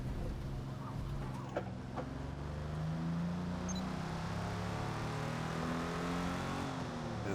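The engine of a 1956 Jaguar D-Type racing car in Forza Motorsport at Lime Rock runs steadily near the pits, a continuous mid-level drone with rising and falling revs and no talk over it.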